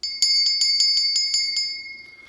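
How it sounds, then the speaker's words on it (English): A small bell is rung in quick repeated strikes, about eight bright metallic rings in a steady rhythm, close and loud, then left to ring out at the end. "Oh, ring that bell."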